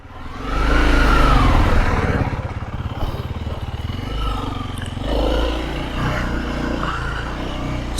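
A 2021 Honda CRF300L dual-sport motorcycle being ridden, its single-cylinder engine revving up loudly and close, then settling into a steady mid-pitched drone with throttle swells as it rolls along.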